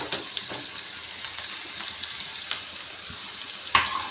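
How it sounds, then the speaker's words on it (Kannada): Onion and potato frying together in a pan for masala dosa filling, giving a continuous close sizzle broken by scattered light clinks and scrapes, with a sharper knock near the end and no speech. "ಈರುಳ್ಳಿ ಫ್ರೈ ಆಗಿದೆ ನಾನಿವಾಗ ಆಲಿಗೆಡೆ ಹಾಕೋತಾ ಇದ್ದೀನಿ"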